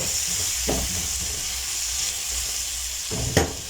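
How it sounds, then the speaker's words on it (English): Tomato paste stirred into a frying pan for vegan noodles, a steady close sizzle of frying with soft scraping stir strokes and a sharper clink near the end, no talk. "So I'll now go ahead and add in the tomato paste."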